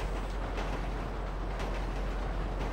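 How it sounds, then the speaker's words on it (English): A train rolling along in a video game gives a continuous, moderately loud rumbling drone with light rhythmic clatter and no talking. "I rode the train too long, didn't I?"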